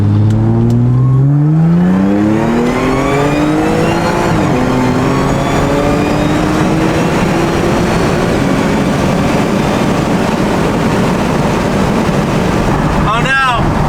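Audi S4 accelerating hard up a freeway entrance, the engine note climbing steadily through the gears with a brief dip at a shift, loud and sustained from inside the car with a rushing roar building toward the end.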